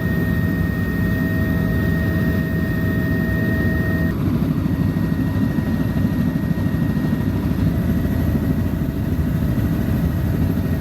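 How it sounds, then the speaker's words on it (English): Helicopter flight during a ride at the Goodwood automotive show, heard up close as a loud, unbroken engine and rotor drone that holds steady for the whole stretch without any voices. "It's a bit of helicopter time."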